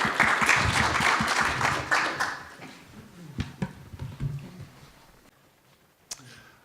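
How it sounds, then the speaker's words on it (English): Applause from an audience at a panel event on robots, VR and hacking, loud at first and fading over several seconds into scattered claps and faint murmurs. "Please, a warm applause for Alex May."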